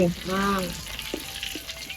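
Spices for spicy chicken fry in a pan with a steady sizzle and light stirring scrapes, close by, following a brief voice at the start.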